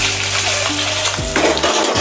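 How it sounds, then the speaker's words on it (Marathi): Eggs fry in a kadhai with chilli powder, turmeric and salt, giving a steady close sizzle with light scraping and stirring clinks from a spatula against the pan. "आपल्याला अंडी छान अशी तळून घ्यायची आहेत, सोनेरी रंग येईपर्यंत छान।"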